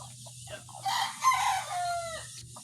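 A rooster crows loudly nearby over a low steady hum, with a few short clucks before and after the crow.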